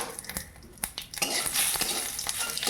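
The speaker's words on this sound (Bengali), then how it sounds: "শুকনো লঙ্কা দিয়ে এটা একটু ভাজা হোক" Dried red chillies with bay leaf and whole cumin frying in hot oil in a home kitchen pan, a steady close sizzle with occasional clinks and stirring scrapes of a utensil, no voices.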